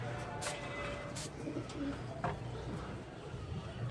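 Pigeons coo softly in a loft where pet birds are kept and handled, the low murmuring calls repeating steadily under a faint background hiss, with occasional brief fluttering sounds.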